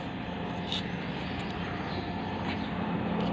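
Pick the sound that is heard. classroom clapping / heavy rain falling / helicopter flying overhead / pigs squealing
helicopter flying overhead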